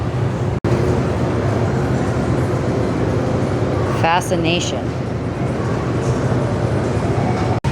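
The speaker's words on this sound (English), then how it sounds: "There's a train." A train passes nearby in the coastal Midwest: a continuous, fairly loud rumble and rush runs throughout, while a person speaks briefly over it partway through.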